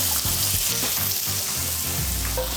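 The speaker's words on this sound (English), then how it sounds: "let's get a skillet nice and warm, and let's get those onions sauteed" Onions sautéing in a warm skillet, a loud dense sizzle with crackling and light tossing or stirring movements, close and continuous with no talk.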